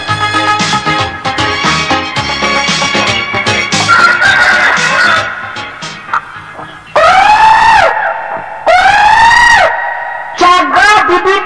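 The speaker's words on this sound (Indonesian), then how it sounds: "Jago bibitan." A rooster sound effect for a radio drama: rapid excited clucking with scattered sharp sounds, then loud drawn-out crowing calls repeated close by and filling the foreground.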